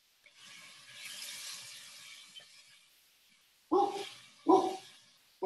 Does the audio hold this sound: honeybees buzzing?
no